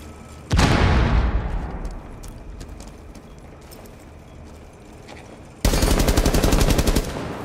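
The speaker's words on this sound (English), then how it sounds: "Frag grenade hot!" A frag grenade blast and gunfire in the video game Rainbow Six Siege: a loud, close explosion with a long decaying roar, then a later burst of rapid automatic fire.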